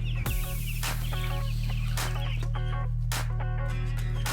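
Several chickens in movable pens out on grass cluck and chatter in short bursts over a constant low mechanical hum, close by.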